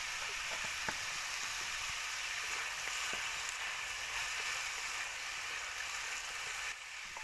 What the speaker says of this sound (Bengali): খুব ভালো করে কষিয়ে নেব।